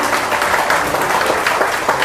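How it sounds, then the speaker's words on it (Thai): A dense wash of clapping from a crowd, continuous and fairly loud throughout the short stretch. "ขอเสียงปรบมือให้กับบอดารี่ด้วยนะคะ"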